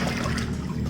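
Water splashes and trickles over muddy toy cars, trucks and buses being washed, a short close burst of pouring liquid.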